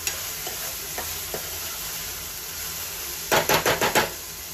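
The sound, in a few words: spices stirred into frying onion and tomato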